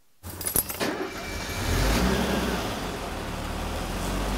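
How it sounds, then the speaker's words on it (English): Keys jingle briefly before an M110 engine with a temporarily repaired muffler cranks and catches in a workshop, then settles into a loud, steady, close-up run. "when I start this thing up, you're going to notice a difference right away."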